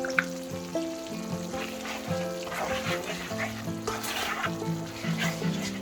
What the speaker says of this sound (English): I'm going to let it sizzle for a couple of minutes on low.